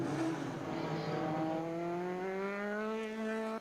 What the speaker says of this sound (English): We see the safety car emerging from the pit lane.